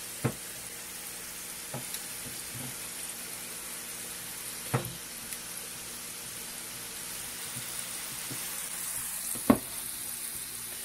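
Filipino lumpia in egg-free wrappers fry and brown in hot oil, giving a steady close sizzle with occasional sharp clicks and taps from handling, running unbroken and without talk.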